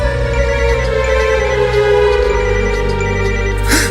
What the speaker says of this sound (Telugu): ఇలా వచ్చిందండి ఫోన్